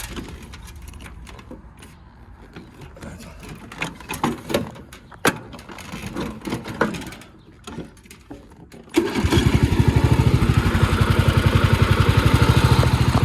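A Jonsered ride-on lawn mower's engine is heard at close range: scattered handling noise at first, then around nine seconds the engine catches and settles into a loud, steady running drone through to the end.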